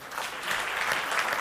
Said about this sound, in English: A round of applause, guys.